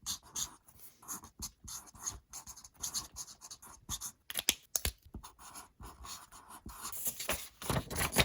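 Alcohol markers scratch across construction paper in quick, irregular strokes, close and faint, with short pauses between bursts of colouring.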